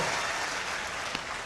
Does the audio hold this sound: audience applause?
yes